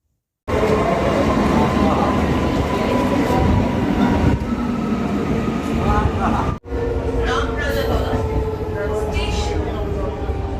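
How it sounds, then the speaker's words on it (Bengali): A Howrah–Amta local train rumbles steadily into a station platform, a loud continuous roar of wheels and carriages with a brief dip midway, while people talk nearby. "হাওড়া আমতা লোকাল ট্রেন আসছে"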